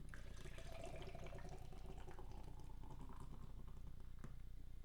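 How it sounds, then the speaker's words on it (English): Beer pours aggressively into a glass with a continuous splashing gurgle, fairly close and moderately loud, with no talking. "It was a nice aggressive pour"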